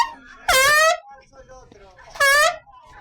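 A small toy horn (cornetita) blown through its little hole gives two short, loud, buzzy honks about a second and a half apart, with quiet handling sounds between them.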